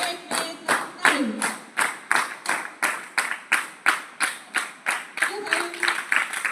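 Children clap together in a counting game, sharp unison claps in a steady rhythm, about two or three per second, with voices chanting over the beat.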